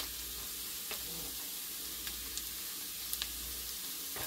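Scrambled eggs sizzle steadily in a hot pan, a continuous soft frying hiss broken by a few faint ticks and pops.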